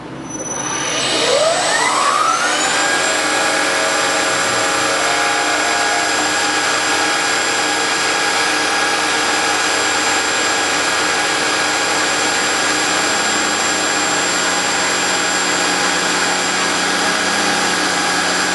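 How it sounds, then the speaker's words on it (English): CNC spindle spinning up with a rising whine, then running steadily at a high pitch for a long stretch while cutting wood, loud and close with no speech. "Turn the spindle switch on."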